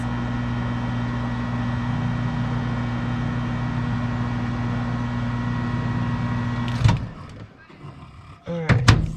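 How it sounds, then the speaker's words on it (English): A microwave oven hums steadily while briefly heating a topping ingredient for a vegan apple cranberry crisp, then the door clunks open and a few sharp beeps and clatters follow. "We'll give it like 5 seconds in the microwave"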